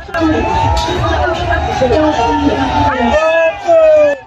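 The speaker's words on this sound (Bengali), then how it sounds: "বর্ষার জলে ভরা নদীতে শত শত মানুষের ভিড়, ঢাকঢোলের শব্দ আর নৌকার পাল্লা" Hundreds of people crowd a riverbank at a traditional village boat race in Bagerhat, cheering and shouting together in a loud, close, continuous roar with rising whoops.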